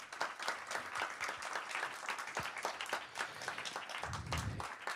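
A conference audience at a design and durability talk gives speakers sustained applause, with dense clapping steady throughout at a moderate distance.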